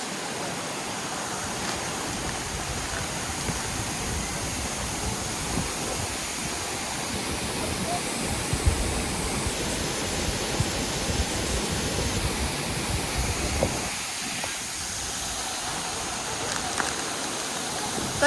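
Manbontan Falls roars as a steady, dense wash of water, broad and constant throughout, with faint voices now and then beneath it.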